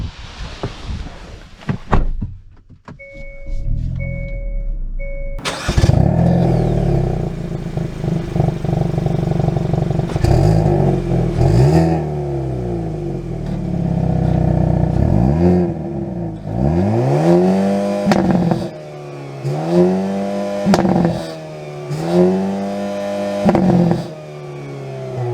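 A 2023 Hyundai Kona N starts with a sharp crank and flare, then settles into a busy idle and several loud, close rev sweeps as it pulls away, each climb ending in a quick drop before the next.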